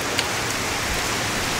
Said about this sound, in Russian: Смотрите, какой дождь мощный пошел.